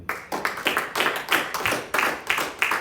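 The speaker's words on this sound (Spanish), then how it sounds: "Denle un aplauso." Church congregation clapping in rhythm, a steady series of sharp, fairly close claps beating at an even pace in a hall with no voices over them.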